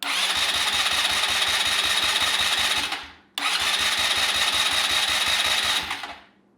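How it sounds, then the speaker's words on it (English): An ATV's push-button electric starter cranks the engine in two long bursts of rapid, rhythmic whirring, each about three seconds, with a brief gap between; the engine does not catch, and no one speaks. "Starter works, or the push button starter works now."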